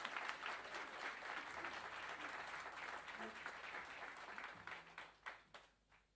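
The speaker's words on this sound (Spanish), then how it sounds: "Un fuerte aplauso para Diego" Audience applause at a live concert, a steady wash of many hands clapping that carries on throughout, fading into scattered claps near the end, with a voice briefly heard underneath.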